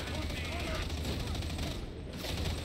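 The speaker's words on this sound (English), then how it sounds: "I'm using the auto cannon, the cooler version." Autocannon fire in a Warhammer-style video game, a dense continuous rattling burst of heavy rapid shots, loud and close, with faint voices in the background.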